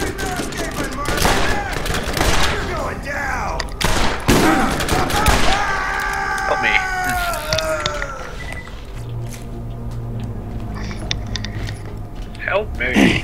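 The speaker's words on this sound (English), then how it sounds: "it's just exploding everywhere. Yeah, that'd be my grenades." Loud, chaotic video game combat with repeated grenade blasts and gunfire bursts over several seconds, with people talking over the noise.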